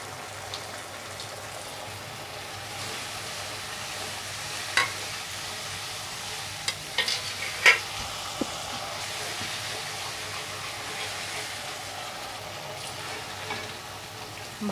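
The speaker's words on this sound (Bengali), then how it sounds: "ভালো করে নেড়ে নিতে হবে" Potatoes tossed with sugar and white sesame seeds stir-fried over a high flame for Potato 65, giving a soft, steady sizzle with a few faint scrapes and clinks, no talking.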